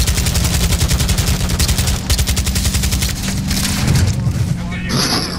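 Rapid automatic gunfire in Call of Duty DMZ, loud sustained bursts of shots over a droning vehicle engine, with brief pauses between volleys.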